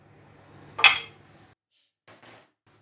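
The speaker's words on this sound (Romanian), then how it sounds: "O să pun și zahărul peste laptele din oală" Utensils clinking against a pot while sugar is added to milk for a chess cake: one sharp metallic clink, then a few fainter taps after a pause, in a quiet kitchen without talking.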